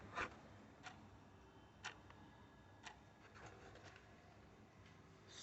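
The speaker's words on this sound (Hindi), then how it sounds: "घड़ी एकदम सामने टिक कर रही है मेरे सामने." Victor Coats wall clock made in India ticking steadily about once a second, faint and alone in a quiet room.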